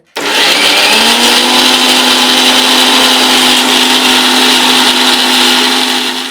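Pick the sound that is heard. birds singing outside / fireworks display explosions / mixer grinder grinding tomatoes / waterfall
mixer grinder grinding tomatoes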